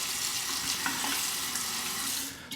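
Running water at a bathroom sink as a Parker 111B safety razor is rinsed, a steady close splashing hiss lasting a couple of seconds before cutting off.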